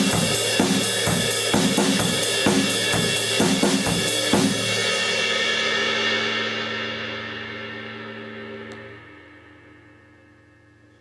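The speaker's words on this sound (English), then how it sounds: "the way that a lot of surf drummers played it was played on the" A surf rock drum beat is played on the right cymbal instead of the hi-hat, with steady, punchy hits and a bright cymbal wash for about five seconds. The cymbal then rings out and slowly fades.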